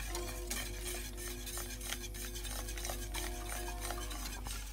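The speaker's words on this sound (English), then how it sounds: "you're gonna need to be whisking for the next 35 minutes" An eggnog mixture of milk is whisked in a pan on the stove, giving a continuous scraping stir over a low hum, with faint clinks of the whisk against metal and no talking.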